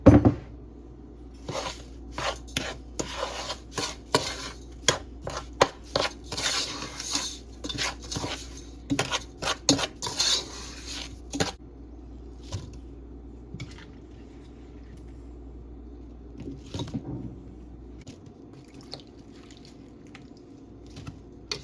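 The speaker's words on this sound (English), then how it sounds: "I'm going to get a spoon, and I'm going to stir my apples in." A metal spoon clatters and scrapes against a bowl while stirring apple slices soaked in lemon juice, giving repeated sharp clinks and wet squishes up close that thin out into quieter stirring toward the end.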